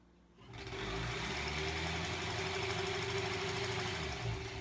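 A sewing machine stitching a strip onto a granny squares quilt starts up after a brief pause and then runs steadily with an even, continuous whir and motor hum, close and alone.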